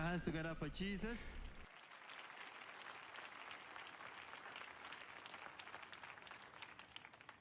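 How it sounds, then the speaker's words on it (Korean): Church congregation applauding during a memorial week thanksgiving service, broad sustained clapping filling the room after a brief spoken introduction, steady and even to the end. "여러분, 예수님을 위한 박수 부탁드립니다."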